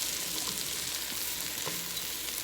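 Zucchini slices softening in a hot pan, giving a steady, even sizzle throughout with faint stirring scrapes and no voices.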